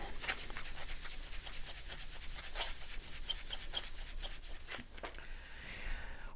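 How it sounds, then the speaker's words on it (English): A Commodore VIC-20 computer case is scrubbed by hand with a magic eraser, giving a steady close rasping rub in repeated strokes for several seconds, then a brief pause and a softer scrape at the end. "I just spent almost 10 minutes really scrubbing this"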